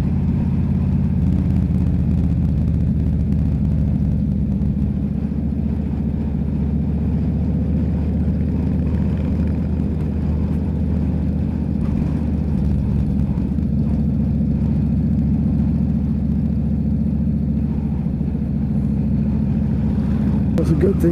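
A Harley-Davidson V-twin motorcycle engine gives a loud, steady, deep rumble that holds without a break from start to finish, with no clear rise or fall in revs.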